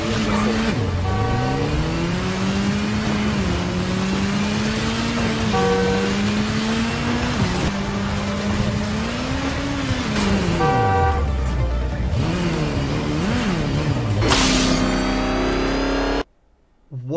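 Video game car engine droning and revving with rising and falling pitch, a sustained horn-like tone, and a loud burst near the end before an abrupt cutoff to silence.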